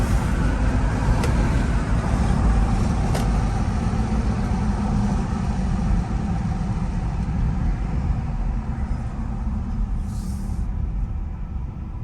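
A 2011 Jeep Grand Cherokee with the 5.7 Hemi V8 cruises on a pleasant day, its steady engine and road rumble held at an even level from inside the cabin, with a few faint clicks and no talking.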